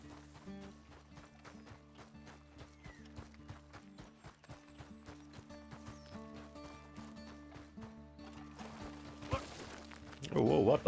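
Horse hooves galloping in a video game, a steady fast clip-clop rhythm running throughout at moderate level, with game music tones and a louder burst near the end.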